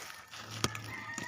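A brooding hen gives a short burst of clucking, with one sharp cluck standing out near the middle, close by over a faint steady hum.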